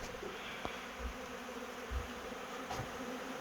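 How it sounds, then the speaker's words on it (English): A honey bee swarm fills a bee hut, its steady insect hum and buzzing close around, with brief low thumps and knocks scattered through. "There's bees everywhere around in the bee hut."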